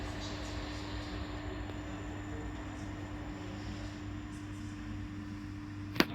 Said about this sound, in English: This Grand Central 180, running very, very late, is also switching to the slow line